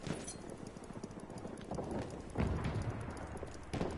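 A horse gallops in the Battlefield video game, its hooves making a quiet, rapid clip-clop under a noisy battle backdrop, with no voices.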